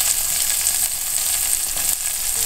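Onion and capsicum fry with cumin in hot groundnut oil, giving a steady, dense sizzle that holds loud and unbroken throughout with no speech.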